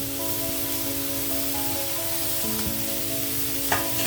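Curry leaves, green chillies and cauliflower sizzling in a hot pan, a steady close frying hiss with faint background tones, no talk.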